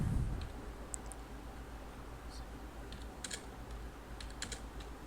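Search text being typed on a computer keyboard, with light, quiet key clicks coming in small irregular bursts over a low background hum and no voices.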